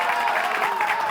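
Audience applause on a French TV game show, a continuous wash of clapping from a studio crowd, fairly loud and even across the short stretch.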